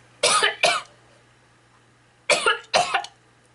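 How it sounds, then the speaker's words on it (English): Two pairs of sharp, close coughs from one person, separated by a quiet pause in an otherwise still room. "Sorry, I'm coughing."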